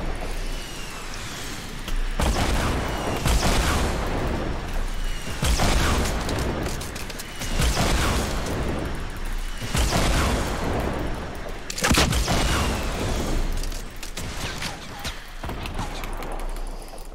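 Sniper rifle fire in the Fortnite video game, heard as a run of loud, booming blasts that repeat roughly every two seconds, each trailing off before the next, with no talking.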